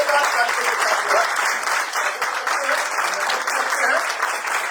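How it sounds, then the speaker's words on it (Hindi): A large audience gives a standing ovation for a member of parliament, loud continuous applause filling the room with dense, even clapping throughout, with faint voices underneath. "हम चाहते हैं एक बार स्टैंडिंग ओवेशन में जो है हम अपने मनोज कोटक जी का जोरदार तालियों के साथ"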